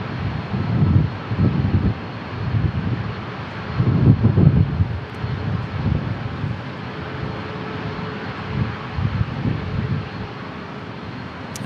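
An airplane at San Diego International Airport roars as it climbs away, a broad rumbling engine noise that swells and fades in uneven waves with wind buffeting the microphone.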